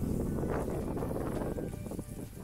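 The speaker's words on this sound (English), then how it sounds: "It is so windy. Sorry about the wind if it's bad." Strong gusty wind buffets the microphone on a golf course, a continuous roaring rumble that swells and dips over a couple of seconds.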